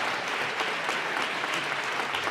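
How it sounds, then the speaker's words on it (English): A large audience at a state address applauds Governor Polis in steady, dense clapping that lasts the whole stretch at an even level. "Let's give him one more round of applause"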